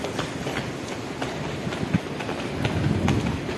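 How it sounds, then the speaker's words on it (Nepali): A metro train arriving at a station, with a continuous rumbling roar and faint rhythmic clicking of wheels on track that swells slightly toward the end. "मेट्रो आइसक्यो गाइजहरू है"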